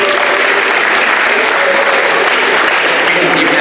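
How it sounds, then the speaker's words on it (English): An audience at a high school after-prom event breaks into loud, dense applause that stays steady and close for the whole stretch, with no break. "Give her a round of applause, everybody."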